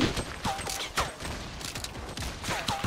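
A busy Fortnite Battle Royale firefight with grenade launcher fire, many sharp cracks and thuds coming in quick, uneven bursts at moderate loudness, with no voices.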